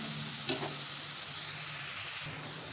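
Onions sauté in a pan for a large batch of pav bhaji, giving a soft, even sizzle throughout with a single stir scrape early on and quieter background hiss.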